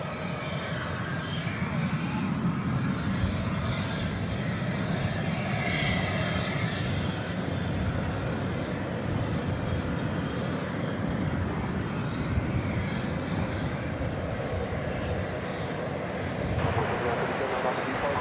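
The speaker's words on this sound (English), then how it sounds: "American Flight 2769 in Airbus A321." An American Airlines Airbus A321 jet at DFW airport at night, a steady, loud engine roar sustained throughout as the aircraft passes, with faint voices underneath.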